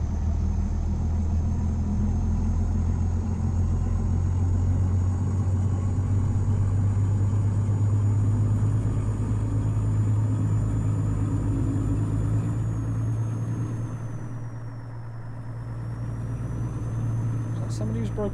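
A heavy truck engine drones steadily in 10th gear in Euro Truck Simulator on an icy road, a constant low rumble with a faint high whine above it, briefly dipping in level near the end.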